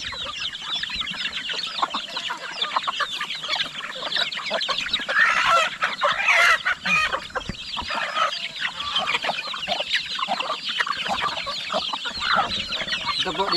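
Mother hen clucking near her chicks on a farm, a close, busy run of repeated clucks and cheeps that carries on alone throughout, with a louder burst in the middle.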